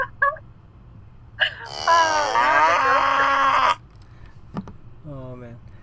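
A cow mooing sound effect plays as a single drawn-out, wavering moo of about two seconds. Brief voices are heard just before and after it.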